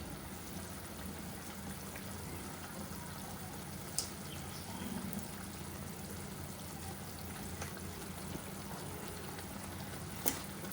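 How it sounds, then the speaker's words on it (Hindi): Fish curry gravy for Bengali pabda macher jhol bubbling in a pan, a faint continuous simmering hiss with a couple of small clicks, no talking. "अब ग्रेवी में बढ़िया से उबाल आ चुका है"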